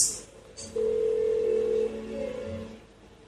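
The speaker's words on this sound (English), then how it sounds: "Why won't she pick up the phone?" A phone rings unanswered in the video game Persona 4 Golden, with a single sustained electronic ring tone at moderate volume, bracketed by quieter faint sounds.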